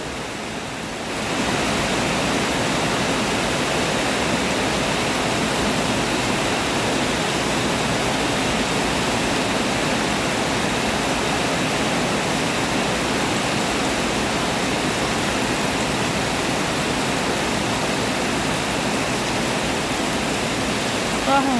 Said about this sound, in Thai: ตกหนักจริง ๆ พี่น้องเอ้ย น้ำจนท่วมแล้ว